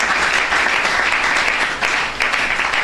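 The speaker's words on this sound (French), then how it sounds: "Est-ce qu'on peut acclamer pour le Seigneur?" A church congregation applauds and cheers for the Lord, dense sustained clapping filling the whole room loudly and evenly, with crowd noise blended underneath.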